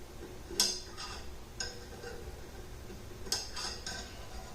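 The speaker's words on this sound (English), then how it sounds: "I'm going to take a spoon, and I'm just going to carefully pull it to the side and drop it" A spoon works over a pot of clarified butter as foam is skimmed off. Faint, sparse metallic clicks and small bursts come in two clusters against a quiet background.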